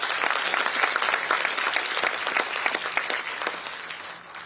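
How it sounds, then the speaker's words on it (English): Hearty audience applause at a university event in honor of a health minister, a dense wash of many hands clapping steadily and loudly, fading slightly toward the end. "I think huge round of applause to Rane sir."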